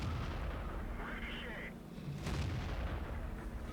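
Panzer IV Schmalturm tank gun firing in World of Tanks, a booming artillery-like blast with rumbling tail, heard among continuous battle ambience.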